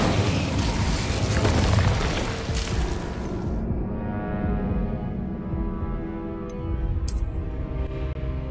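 An Incendio fire spell cast in Hogwarts Legacy, a loud whooshing burst of flame that roars for a few seconds and then fades into a lower rumbling tail, with a brief high magical shimmer near the end.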